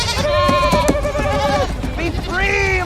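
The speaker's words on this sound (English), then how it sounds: "Tom, aka Loki, unleashes this cartload of goats on the well-meaning civilians" A cartload of goats is let loose among civilians in a Loki episode, giving several loud, wavering bleats one after another while a voice talks over them.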